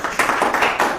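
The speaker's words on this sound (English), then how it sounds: "Pigeni makofi if you're home, clap for Kaleche" A studio crew on a live show claps in a quick, steady run of hand claps, loud and close, filling the short moment with rhythmic applause.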